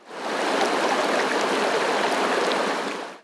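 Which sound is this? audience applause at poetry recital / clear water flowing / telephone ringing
clear water flowing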